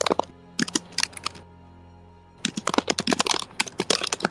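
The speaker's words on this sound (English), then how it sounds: "We can hear all of that typing" Keys clatter on a computer keyboard in quick bursts of typing, close and crisp, with a short pause partway through.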